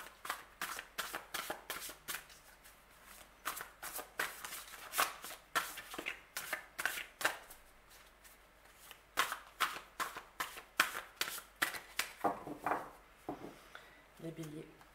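A deck of inner child oracle cards is shuffled over and over in quick, crisp riffling bursts, close up and steady for the whole stretch, and near the end a voice talks softly.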